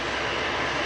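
An airliner arriving at Manchester Airport after a flight from Venice gives a steady, loud, broad engine roar that fills the whole short moment without change.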